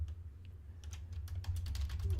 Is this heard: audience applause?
no